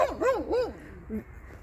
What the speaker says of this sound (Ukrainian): Оці песики пасуть овечок.